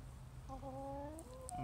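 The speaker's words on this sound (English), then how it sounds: "People always ask if we have chickens" Faint clucking from chickens, a drawn-out warbling call over low background rumble, with a couple of soft chirps near the end.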